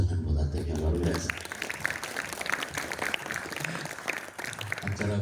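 Applause from an audience at a Ramadan iftar gathering at an Islamic boarding school, a steady dense clatter of clapping that carries through the clip with speech layered over it.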